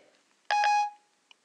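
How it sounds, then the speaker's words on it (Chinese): A phone number is tapped out on a telephone keypad, a single clear electronic tone of about half a second followed by a faint short blip, quiet and close. "我来敲一个电话号"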